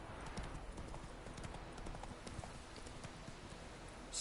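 Roach the horse trotting in Witcher 3, steady hollow clip-clop of hooves in an even rhythm, moderately close and without talk.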